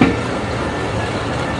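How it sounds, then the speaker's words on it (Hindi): The Thal Express pulls out of Taxila railway station with a loud, continuous rumble of rolling wagons and rail noise, heard close from on board with no pauses. "थल एक्सप्रेस टेक्सला रेलवे स्टेशन को छोड़ती हुई"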